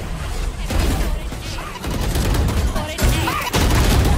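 Rapid weapon fire and ability effects rattle during a Valorant ranked match, with dense bursts of shots and sharp impacts layered under excited voices.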